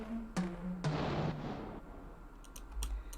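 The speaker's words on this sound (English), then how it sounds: "It's like this pluck. And then on the last note, it's followed by a short, low stab." A dark electronic beat element: a short synth pluck followed by a low stab, both soaked in reverb and delay, plays quietly as a few quick notes fading into a washy tail with faint clicks.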